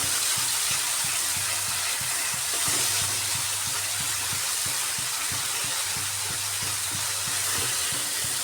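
Ground spices such as turmeric, cumin, coriander and red chilli with chopped ginger sautéing in a pan for a cauliflower curry, giving a steady close sizzle and hiss with faint regular stirring scrapes, no voices.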